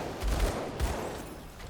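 A gunslinger shoots at enemies in Path of Exile, making a dense stream of rapid shots layered with low thumping impacts, steady and fairly loud throughout, with no one speaking.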